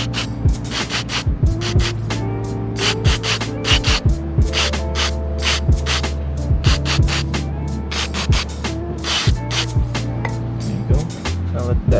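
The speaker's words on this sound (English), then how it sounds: "Just go ahead, take the cleaner, give it a few sprays" Cleaner sprayed onto a dirty car MAP sensor, a series of short, sharp hissing bursts in irregular rhythm over a steady low hum, fairly close.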